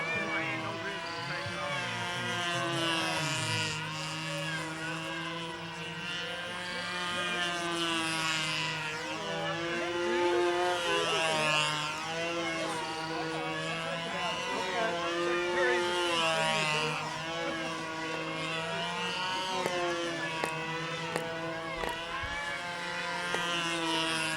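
A control-line model airplane engine drones steadily and loudly through a flight at an outdoor flying circle, its pitch rising and falling as the plane circles the pilot.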